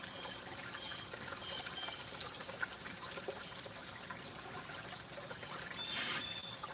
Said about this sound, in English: I'm just recirculating the water through it